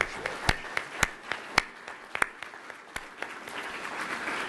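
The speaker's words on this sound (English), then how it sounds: "So if we could just give a round of applause to all our sponsors" Audience applause for sponsors at a community growth conference, a light scattering of claps with a few sharp, close hand claps standing out among softer ones from a modest crowd.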